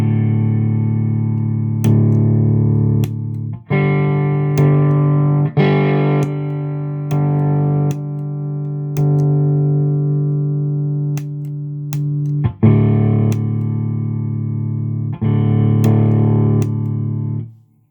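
Electric guitar through a Dr. J Lancelot distortion pedal, loud sustained distorted chords and ringing notes with short pauses and pick attacks between phrases, played alone.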